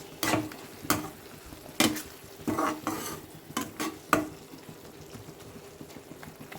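Food being sautéed in a pan, a spatula scraping and stirring in repeated bursts over a quiet sizzle, with occasional clinks against the pan.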